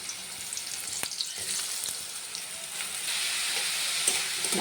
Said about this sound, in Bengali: মাছগুলো ভাজতে দিলাম